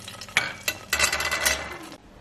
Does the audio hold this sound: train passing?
no